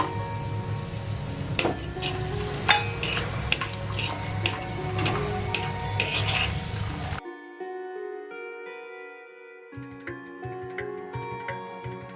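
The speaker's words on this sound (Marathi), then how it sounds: "ड्रायफ्रूट भाजून घेऊया।" Dry fruits roast in a pan for Diwali poha chivda, with scattered metallic clinks and scraping of a spatula against the pan for several seconds before music takes over.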